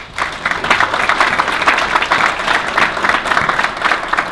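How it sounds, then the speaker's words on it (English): Audience applause at a family business awards ceremony, a dense, steady patter of many hands clapping throughout, fairly loud and close, with no talking over it. "Give them a round of applause."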